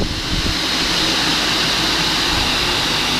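The motors of an Oliver No. 260 sliding table saw spin at full speed, a loud, steady broadband whir with a constant hum and no breaks.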